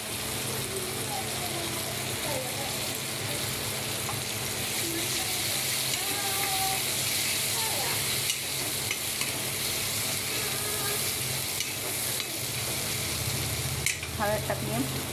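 A fish masala curry base with turmeric fries in a pan, giving a steady close sizzle with stirring scrapes throughout while someone talks over it.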